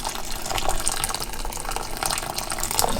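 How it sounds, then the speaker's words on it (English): Hot water is poured into a bowl to soak sea moss, a continuous close splashing and gurgling stream that holds steady for the whole pour. "now we're just gonna pour some in here"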